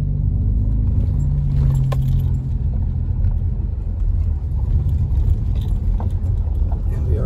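Steady low engine rumble and road noise from a car off-roading behind the top of Snow Summit in Big Bear, California, heading into a storm, with small rattles and clinks over the continuous drone.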